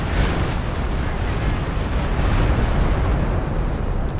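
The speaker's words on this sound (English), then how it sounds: "Uses the Stuka barrage to prevent the cap there" Stuka rocket barrage in Company of Heroes 2, a dense continuous roar of overlapping explosions and rumbling blasts, loud and sustained with no gaps.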